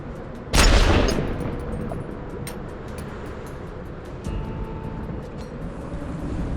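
Gunfire in the Worms W.M.D. video game: one sharp loud blast near the start that trails off into a lingering rumble, with a few faint clicks afterward.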